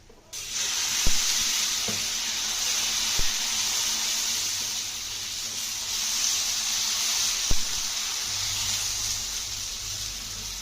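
Dosa batter sizzles steadily on a plain iron pan, a continuous close hiss with a few faint clinks from a utensil.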